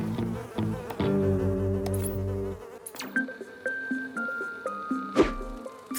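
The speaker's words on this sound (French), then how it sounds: "T'inquiète, Vic, c'est seulement 2 petites mouches." Flies buzzing close by, their droning pitch shifting as they move, over a steady background hum with a few sharp clicks.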